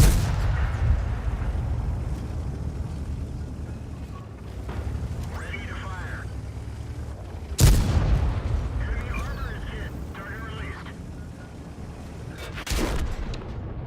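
Tank cannon firing in World of Tanks, with one sharp loud boom midway over a constant low rumbling engine bed, plus fainter muffled impacts, while someone talks in the background.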